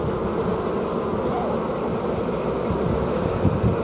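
Honey bees hum in a dense, steady drone at an active hive, close and continuous with a few louder swells near the end.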